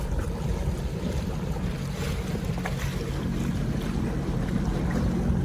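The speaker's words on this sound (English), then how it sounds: "That's a big old houseboat." A large houseboat with jet ski lifts on its back passes on Canyon Lake, its low engine rumble steady under heavy wind buffeting and water noise, fairly close.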